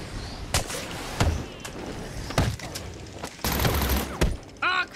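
Enemy gunfire in Batman: Arkham City, a series of sharp, loud bursts and single shots spaced unevenly, with a dense fusillade near the end and a brief voice-like sound at the close.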